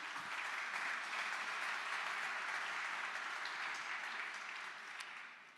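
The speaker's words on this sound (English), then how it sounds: "it's fantastic that you got a round of applause there, Thibaut." A steady round of audience applause at a European open source awards event, many hands clapping in an even wash that holds level and then eases slightly toward the end, with no voices over it.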